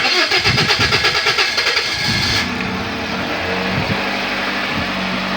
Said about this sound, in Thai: เดี๋ยวผมจะให้พี่น้อง ชมห้องเครื่องยนต์นะครับ เดี๋ยวสตาร์ทกันเลยนะครับ